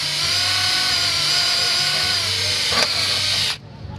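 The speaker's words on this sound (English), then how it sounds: "just drill a little hole there" Close and loud, a power drill spins a sharp bit into a Victory Cross motorcycle bracket with a continuous high whine, a brief crunch near the end, then cuts off abruptly.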